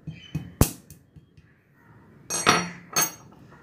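Castor seeds are cracked open with a few sharp, hard knocks and clicks, close and fairly quiet, in two short clusters separated by a brief pause.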